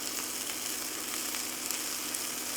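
Butter sizzles and spits in a hot pan around a cheeseburger patty, a steady, close, loud frying hiss with small crackling pops throughout and no talking.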